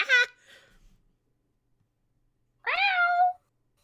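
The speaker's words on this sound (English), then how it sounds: "meowing up a storm." A cat meows twice, loud and close: a short cry at the start, then after a long silence a longer, drawn-out wail, with the start of a third cut off at the very end.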